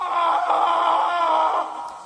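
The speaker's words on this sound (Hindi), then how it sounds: "और फिर अचानक किसी आदमी के चीखने की आवाजें आनी शुरू हो गईं।" A man screaming in terror as a horror story sound effect, a loud sustained strained cry held for about two seconds before trailing off, heard alone.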